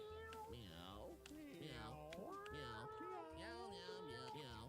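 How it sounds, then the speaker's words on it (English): Meows from cats in the video game Mewgenics come one after another, several sliding, expressive cries at close range, fairly loud and crowding each other. "Guru anyway, just because of that meow. That meow is awesome."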